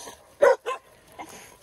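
Dogs bark twice in quick succession at close range outdoors in snow, followed by a fainter yip, with no talking over them.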